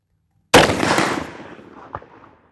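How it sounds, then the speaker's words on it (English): A CVA Crossfire muzzleloader rifle fires a 290 grain bullet with a 100 grain Firestick charge: one loud, sharp outdoor blast decaying over a second or so, followed by a faint distant impact report. "third shot with the 290 grain bore driver and the 100 grain Firestick"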